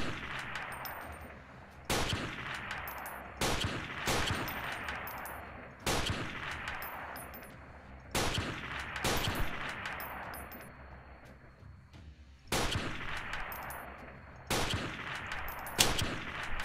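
Gunfire in the video game Freeman Guerrilla Warfare, heavy bursts of automatic fire with sharp onsets, dense and loud throughout, no talking.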